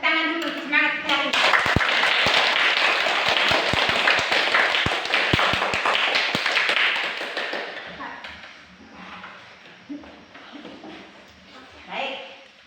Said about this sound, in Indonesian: Kita tepuk tangan dulu, semangat sekali.